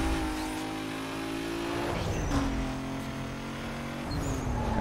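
Turbocharged race car in Need for Speed: Most Wanted 2005, engine droning loud and steady, then dropping and climbing again with gear changes, a brief tire squeal and turbo whistle in between.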